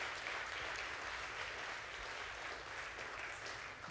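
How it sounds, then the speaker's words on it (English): A crowd claps steadily for several seconds, a dense wash of applause at moderate distance with no break. "So a round of applause to yourself"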